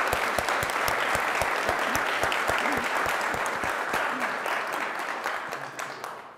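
A lecture audience at a jurisprudence talk applauds, with crisp, many-handed clapping, close and full at first, then thinning and fading toward the end.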